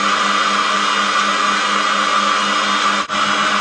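A Sich electric cream separator motor runs steadily and loudly with a constant whirring hum, broken only by one brief dip near the end.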